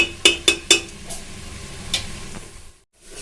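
Ginger and garlic fry in oil in a pot for mutton biryani. Three sharp metallic clinks from a spoon on the pot come early, then a soft sizzle continues with a scrape or two and cuts out near the end.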